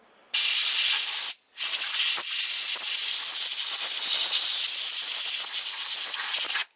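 Compressed air is blown hard through a chainsaw's oil system, a loud close continuous hiss broken by one short pause before resuming for several seconds, with no talking.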